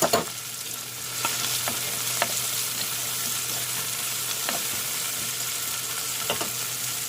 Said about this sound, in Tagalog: Ayan, lagay na natin yung ating pork.